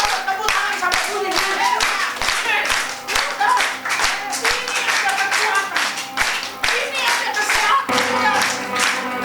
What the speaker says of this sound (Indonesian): Ayo coba tepuk tangan sampai bunyi.